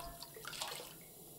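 Water being collected from a toilet in The Long Dark survival game, a brief soft watery splash and trickle heard alone, fairly faint and close.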